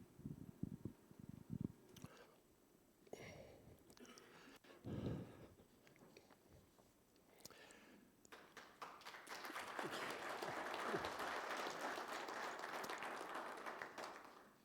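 Airplane passengers applauding after landing. A few scattered claps build into sustained, even applause through the cabin, with muffled background noise before it.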